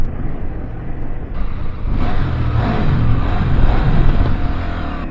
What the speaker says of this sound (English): Just have a listen to the exhaust underneath the bridge